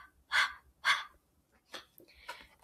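A voice imitates a panting dog with quick breathy huffs, two strong puffs followed by a couple of lighter ones, close and alone.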